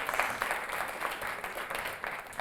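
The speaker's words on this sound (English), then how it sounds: "If you're out there, a round of applause for them." A short burst of steady applause from the audience at a spelling bee, a dense wash of clapping hands heard close.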